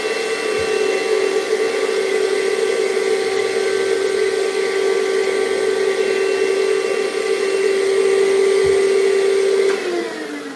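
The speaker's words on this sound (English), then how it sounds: "this vacuum is acting weird today" A vacuum cleaner that is misbehaving drones loudly and steadily at close range, its whine holding a constant pitch for about ten seconds before dipping as it shuts down, with no talking over it.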